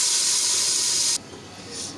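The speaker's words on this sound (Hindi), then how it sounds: "ये आप देख रहे हैं कि मैं हमारी दाल में शामिल कर रही हूँ तड़के को।" Hot tadka tempering poured into whole masoor dal, dhaba style and spicy, gives a loud, steady sizzling hiss that stops abruptly partway through, leaving a quieter background.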